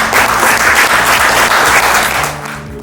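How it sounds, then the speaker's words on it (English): An audience at a Godrej Properties staff gathering in Kolkata breaks into dense, loud applause close by, sustained for a couple of seconds before thinning and fading at the end. "You can please clap for yourself."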